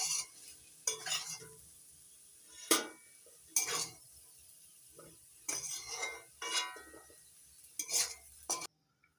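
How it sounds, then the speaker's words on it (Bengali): Potatoes and flat beans being stir-fried in a pan, with a spatula scraping and clinking in irregular strokes over a faint sizzle, close and soft, then falling silent. "নাড়াচাড়া করে ভেজে নিচ্ছি"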